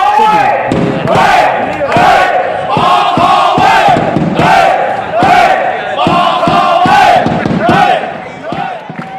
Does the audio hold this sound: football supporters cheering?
yes